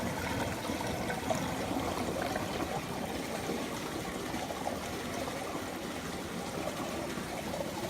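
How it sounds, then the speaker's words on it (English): Water pouring through a Marine Depot overflow on a 120 gallon saltwater aquarium, fed by an oversized pump, a steady close rush and trickle of draining water with no pauses. "My Marine Depot overflow is going nicely."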